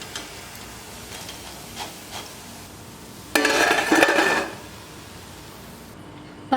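Rava pakoda being lifted out of hot oil in a frying pan, with a short, loud burst of sizzling and hiss along with metal utensil clinks, set between quieter scrapes and taps.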